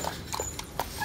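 A male tiger-brindle Phu Quoc dog eats fresh food noisily, with a few sharp, crunchy chomps spaced out over about a second against a low steady background.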